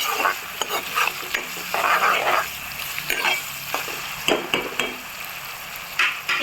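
Boiled potatoes with salt and turmeric being stirred in a frying pan, with irregular scraping and clattering strokes of a spoon over a light sizzle, close and moderately loud, with no talking.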